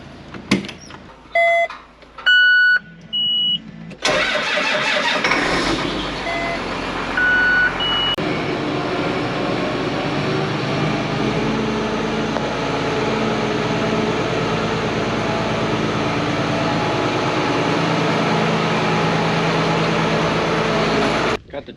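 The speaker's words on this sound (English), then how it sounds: "Got the tractor backed up here, hooked up to the planter." A tractor backs up to hitch onto a planter on a farm, with repeated reversing beeps at the start followed by a steady engine rumble that runs loud and continuous to the end.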